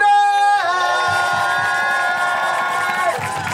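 A crowd cheers and shouts at a popping dance battle qualifier in Oslo, a loud sustained roar of voices under bright held musical tones that drop in after a brief opening.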